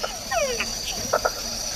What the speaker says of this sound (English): That was a red-eyed tree frog, the one that went.